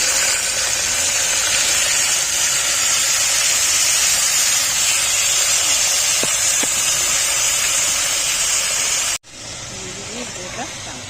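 Mustard oil sizzles loudly and steadily in a pan with panch phoron, green chili and mung beans, a dense close hiss lasting about nine seconds before an abrupt cut to quieter frying.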